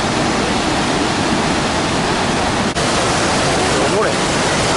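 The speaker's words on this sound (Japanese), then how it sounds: "水しぶき聞きます。" Steady, dense roar of Iguazu Falls on the Brazilian side, with spray hissing, loud and close, continuing without a break for the whole stretch.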